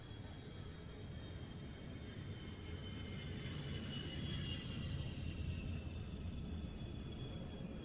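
An ex-Swiss Air Force Hawker Hunter Mark 58 jet passes at a distance, its engine a low rumble with a thin whine above it that swells slightly and then holds.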